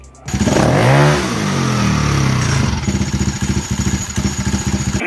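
Scooter engine fitted with a Reveno CVT dry clutch drum, revved up loudly from a standstill and then dropping into a rough idle with a fast, even, metallic rattling pulse, recorded close by.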